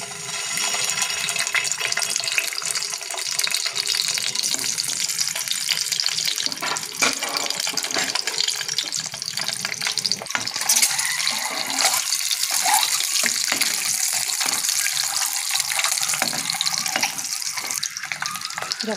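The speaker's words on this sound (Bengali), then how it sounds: "ডিমটাকে ভেজে নেব আমরা।" An egg fries in about three spoonfuls of hot oil for an egg and potato curry, giving a loud, steady hiss and crackle that continues unbroken throughout.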